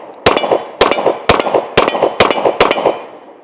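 Kimber Raptor 10mm 1911 pistol firing six sharp, loud shots in a quick, fairly even rhythm, each crack followed by a short ringing echo.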